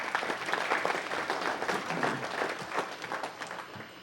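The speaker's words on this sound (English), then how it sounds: "Give her a round of applause, everyone." At a council meeting, an audience applauds a guest with steady, moderately loud clapping from a crowd that carries on evenly throughout.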